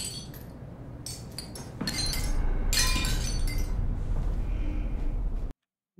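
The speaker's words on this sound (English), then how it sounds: "first time I've seen glass break in this game." Glass breaking in the sci-fi horror game SOMA: several sharp shattering crashes with tinkling shards and clinks, growing louder midway, then cutting to silence at the end, no talk.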